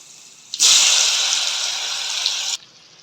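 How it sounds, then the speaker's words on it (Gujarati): Muthiya dumplings drop into hot oil tempered with mustard seeds, curry leaves and hing, setting off a sudden loud, close sizzling hiss that holds steady for about two seconds and then cuts off abruptly. "હવે મુઠિયા વઘારી લઈએ."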